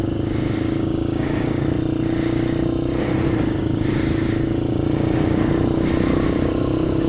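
A Kayo MR150 dirt bike engine, run cold, revs up and down through the gears in a loud, steady drone with rhythmic rises and dips, heard close with no speech.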